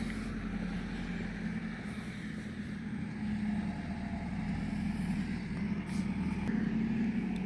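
Noisy tractor engine droning steadily at a distance, a low continuous rumble with no talk over it, near a church and stone buildings at New Norcia.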